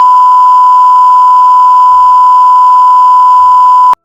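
Steady, loud censor beep fired from a soundboard button, one unbroken pure tone held for about four seconds before cutting off abruptly.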